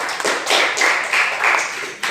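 Steady applause from a group of people, a dense patter of claps rising and falling in waves for about two seconds.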